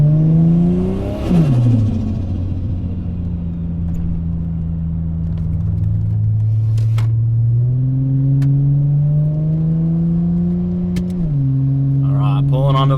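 A loud car engine revs hard in a second-gear pull from 50 to 110 onto a highway, its pitch climbing steadily, dropping briefly at gear changes, then rising again in a sustained pull.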